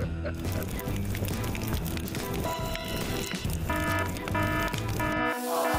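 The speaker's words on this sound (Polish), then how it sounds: "Alarm przeciwpożarowy?" An indoor fire alarm rings loud and continuous in a home, a harsh repeating electronic tone with a bell-like clatter that persists unbroken for several seconds.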